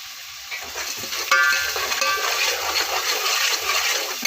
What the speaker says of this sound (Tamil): நல்லா இஞ்சி பூண்டு பேஸ்ட் போட்டு நல்லா வதக்கிடுங்க